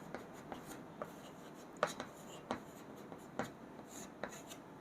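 Pen writing on paper, a quiet series of short scratchy strokes and taps at an irregular rhythm, close and faint, with no voices over it.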